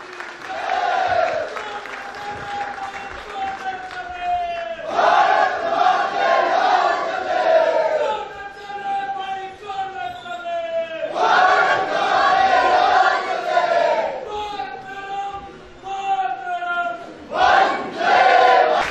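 A large audience at a nationalism program at Shimla University raises loud, sustained collective shouts and cheers in waves of rising and falling voices, with brief lulls between bursts.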